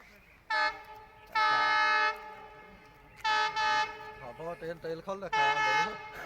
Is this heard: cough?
no